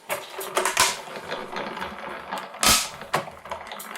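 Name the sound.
running card through a Tonic Studios die-cutting machine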